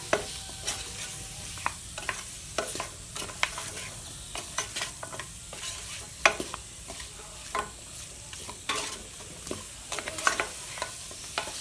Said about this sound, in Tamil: இப்போ எல்லாம் சேர்த்து நல்லா வதக்கிடலாம்